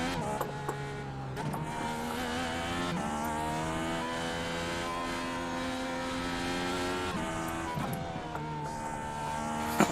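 Simulated IndyCar engine under throttle on the Chicago street course in iRacing, a high-pitched, steady whine that holds near constant, dips briefly with gear changes around a few moments, then climbs again.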